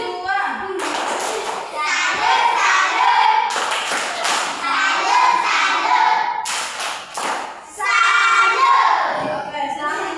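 A class of children in a Pancasila lesson performs the 'tepuk salut' chant, clapping hands in bursts of rhythmic claps and taps while young voices shout along, loud and close.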